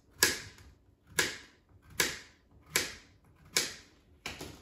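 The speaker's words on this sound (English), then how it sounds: "I'm going to cut off the end and cut it into chunks." A knife chops washed zucchini into chunks on a cutting board, six crisp, evenly spaced thuds about a second apart, close and clear with quiet gaps between cuts.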